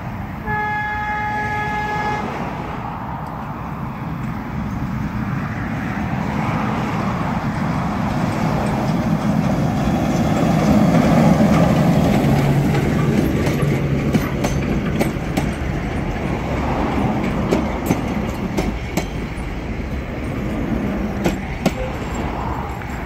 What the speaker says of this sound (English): caught their green Bagulay Drury locomotive hauling the 145 Waihi to Waikī North service